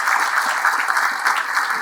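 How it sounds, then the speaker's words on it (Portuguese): Applause from a conference audience at a national union meeting, a steady dense wash of clapping filling the room, fairly loud and continuous with no talk over it. "uma salva de palmas às mulheres"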